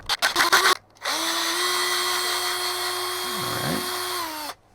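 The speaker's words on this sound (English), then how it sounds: "Drill and tap both the holes." A power drill bores holes for mounting a FarmHQ hose reel, starting with a few short bursts and then settling into a steady, close whine that lasts several seconds before stopping.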